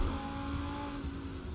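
A Lamborghini Huracan Performante engine in the racing game Assetto Corsa drones steadily at a constant pitch, a continuous mid-level tone with a faint tyre-like hiss and no speech.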